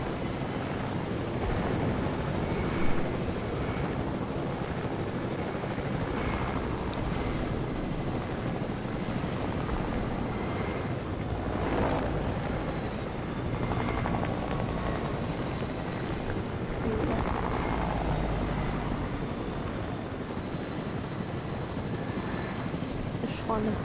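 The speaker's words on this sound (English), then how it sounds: "It's literally like a heli chase." A helicopter in the video game Fortnite gives off a steady, dense rotor and engine roar throughout, loud and constant, with game sounds and voices faintly underneath.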